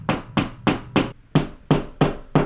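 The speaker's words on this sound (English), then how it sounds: "I just used a flashlight to hammer that." A flashlight used as a makeshift hammer strikes something in an office, giving eight sharp, evenly spaced knocks in a steady rhythm, loud and close, with no talking.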